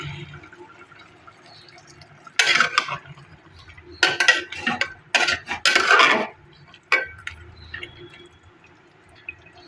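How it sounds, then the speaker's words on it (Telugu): A spoon stirs a lidded pot of chicken curry after simmering, loud bursts of scraping and clinking metal in short bouts between quiet gaps, no voices. "మూత తీసుకొని ఒకసారి కలుపుకోవాలి"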